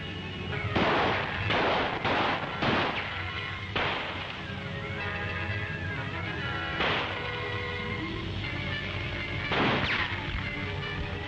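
Sporadic gunshots crack out one at a time, several sharp, loud reports separated by pauses of a second or more, with no talking in between.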